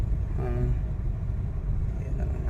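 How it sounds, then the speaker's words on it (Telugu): Cars pass on a road ahead near farmland in Andhra Pradesh, a low, continuous rumble of engines and tyres heard from inside a vehicle, with a brief faint voice early on. "ముందు ఉన్నాయి కార్లు."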